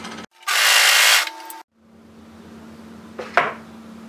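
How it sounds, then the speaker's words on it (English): An overlocker serges the short ends of a fabric neckband: a loud whirring burst of about a second from the machine, a pause with a low hum, then a short clack of handling. "take your neckband and fold it right sides together and overlock these short ends"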